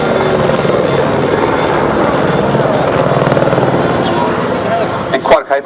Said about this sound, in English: And quite a capable little helicopter.